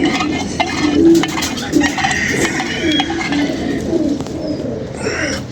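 Pigeons coo in low, repeated throaty calls close by, over a busy background of outdoor noise and faint clatter.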